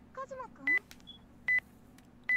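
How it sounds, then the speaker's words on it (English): A cell phone rings in a visual novel game, its electronic tone sounding as three short, evenly spaced beeping bursts, loud and clear above faint chirpy background sounds. "The abrupt ring of my cell phone tears me away from my thoughts of laziness"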